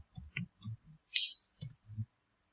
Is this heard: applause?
no